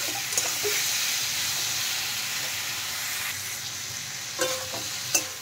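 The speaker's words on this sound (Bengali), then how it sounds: "আবারও একটু নেড়ে দিচ্ছি লঙ্কার গুঁড়ো দিয়ে দেওয়ার পর।" Bottle gourd with chili powder fries in a pan for a fish curry, giving a continuous loud sizzle joined near the end by a few scraping strokes from a stirring spoon.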